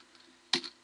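Computer keyboard keys struck in one short, quick clatter of a few keystrokes, fairly close, after a near-silent stretch with no talking.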